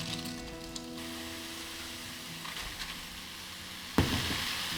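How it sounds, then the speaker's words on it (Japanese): Vegetables dropped into a hot, oil-free frying pan heated over medium-high, giving a steady close sizzle that swells into a sharper burst of hiss near the end. "お鍋がしっかりと温まったら野菜を入れていきます"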